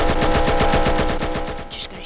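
Rapid automatic gunfire from a gun in the Roblox video game, a steady string of about a dozen evenly spaced shots, loud and close, with a game sound layered in near the end.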